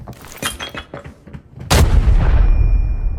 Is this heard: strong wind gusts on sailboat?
no